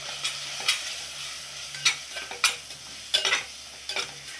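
Onion and masala with turmeric, red chilli powder and coriander powder sizzle in a pan while a spoon stirs and scrapes in a few separate strokes, close and steady.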